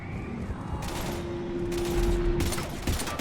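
Video game gunfire in a sci-fi space shooter, dense and continuous bursts of shots blending into a steady roar at fairly loud volume, with no voices over it.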